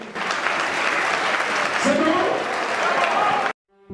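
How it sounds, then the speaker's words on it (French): A burst of loud applause from a crowd, sustained for a few seconds with a voice briefly rising through it, then cutting off abruptly. "Mais on applaudit pour le président Antonio."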